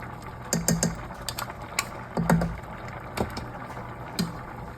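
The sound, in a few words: scissors cutting cooked broccoli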